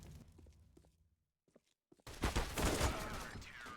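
Tec-9 pistol fire in a Counter-Strike esports match, a quiet lull with faint footsteps and soft clicks, then a dense burst of rapid gunfire and loud combat noise erupting and holding to the end, with commentary murmuring early on.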